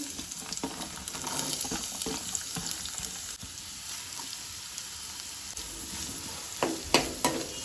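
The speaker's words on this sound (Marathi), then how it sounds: "तेल तापले तशें तातून आमी कांदो घालुया पयलीं" Onion fries in two spoons of hot oil in a pan over a gas flame, giving a steady close sizzle, with a few sharper scrapes and pops near the end.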